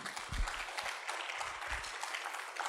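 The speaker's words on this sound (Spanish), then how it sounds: "Dele usted un aplauso al Señor." A church congregation applauds during a Spanish-language sermon, steady soft clapping at a distance for a few seconds with faint low thumps.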